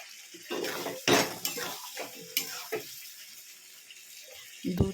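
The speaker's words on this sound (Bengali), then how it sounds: "দুধ দিয়ে আমি এবার এটাকে অল্প করে কষিয়ে নেব।" Chicken curry with milk cooked in a pan, heard as a series of sharp clanks and scrapes of a utensil against metal with some watery splashing, close by and irregular, with quiet gaps between the clatters.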